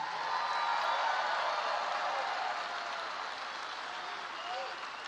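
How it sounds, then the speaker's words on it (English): A rally crowd in Salem, Virginia applauds for armed forces, law enforcement and first responders: a dense, steady wash of clapping that holds for several seconds and eases slightly toward the end. "let's give all of our armed forces, all of our law enforcement first responders a round of applause real quick"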